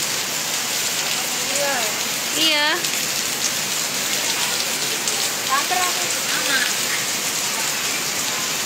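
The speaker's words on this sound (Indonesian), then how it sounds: "Cuma hujan." Rain falls steadily at the Gamplong outdoor film studio in Yogyakarta, a dense, even hiss that carries the whole time while a few voices speak briefly over it.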